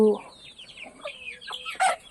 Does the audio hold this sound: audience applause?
no